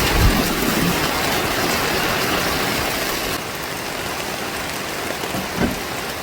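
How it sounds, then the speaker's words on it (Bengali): Heavy rain pours steadily in the Sundarbans forest, a dense, loud roar of falling water that eases slightly partway through, with no voices. "বসে বসে বৃষ্টি দেখছিলাম, প্রায় 40-45 মিনিট একটানা বৃষ্টি পড়লো"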